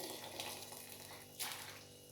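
Recipe mixture poured from one container into another, a soft continuous liquid pour with a brief splashy swell partway through, close by with no talking.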